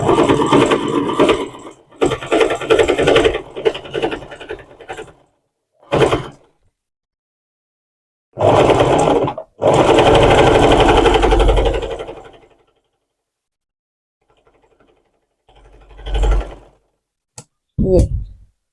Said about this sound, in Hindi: अब यहाँ से एक बार और सिलाई करेंगे।